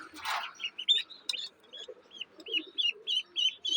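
A native duckling on a weighing scale gives a quick series of high, thin peeps close by, after a brief rustle of handling at the start.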